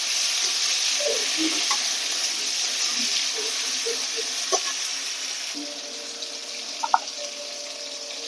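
Tomatoes sizzle in hot mustard oil with bay leaves, giving a steady, bright frying hiss throughout, broken by a few clinks of a utensil against the pan.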